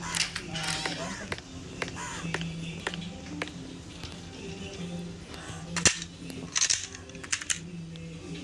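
Sharp gunshots go off in the Specimen Zero horror video game, a handful of short snapping cracks scattered among clicks and game sounds, with voices talking at times.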